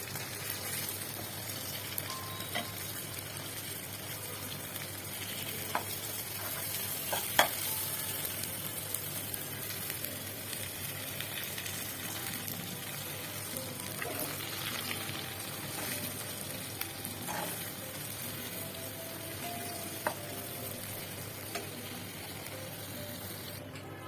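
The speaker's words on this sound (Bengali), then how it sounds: "মশলাগুলো আমি কষে নেবো" Steady soft sizzling of spices frying in a pan for mustard hilsa, with occasional stirring scrapes, no voices.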